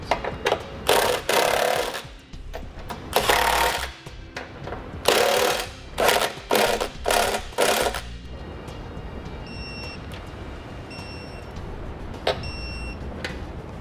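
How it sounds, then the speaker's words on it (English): A ratchet tightens trailer hitch bolts on a 2016 Honda Odyssey, with several loud bursts of rapid clicking up close, then a quieter stretch with a few faint high beeps. "We're going to snug them down first, of course, and then we'll torque them."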